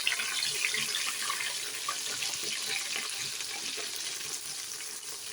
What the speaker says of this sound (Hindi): सूजी और दूध का जो हमने मिक्सचर बना के रखा था ना, वो अब हम इसके अंदर आहिस्ता आहिस्ता से डाल देंगे।